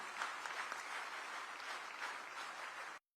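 Audience applause at a stage event welcomes a state minister, a dense, steady wash of clapping that holds evenly for about three seconds and then cuts off abruptly.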